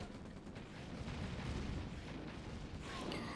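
Rocket artillery fire in the real-time strategy game Under Radar, a steady low rumbling barrage of booms with no talk over it.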